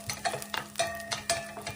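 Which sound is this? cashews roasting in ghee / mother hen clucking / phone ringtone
cashews roasting in ghee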